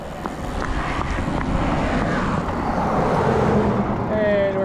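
A car passes a cyclist on a coastal highway, its road noise swelling and rushing by over steady wind buffeting before fading into the distance.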